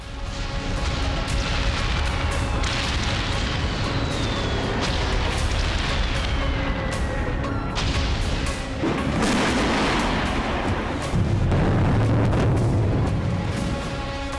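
Iranian missiles such as the Khaibar-shikan, Kadra and Imad launching, with a loud, continuous roaring rumble, whooshing streaks and heavy booms building toward the end, and no voices.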